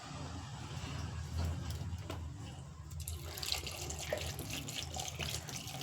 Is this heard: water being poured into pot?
yes